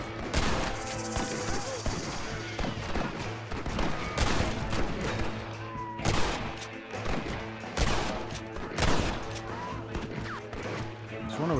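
Gunfire in the video game Red Dead Redemption crackles in rapid repeated shots and bursts of a firefight, loud and dense over a game soundscape, with someone talking between the shots.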